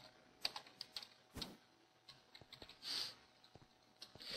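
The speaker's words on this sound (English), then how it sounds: "I can't think while typing." Irregular clicking keystrokes on a computer keyboard, quiet and close, in short bursts with a few louder key presses and brief pauses.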